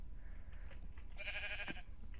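A black sheep in the Minecraft video game bleats once, a short wavering call that comes up faintly out of quiet background.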